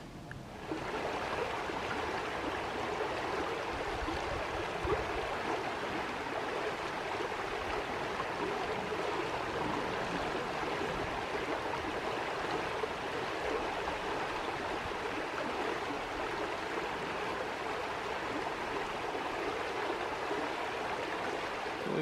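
A deep creek in Bankhead National Forest, Alabama, rushing steadily with a full, close, continuous wash of flowing water and no voices.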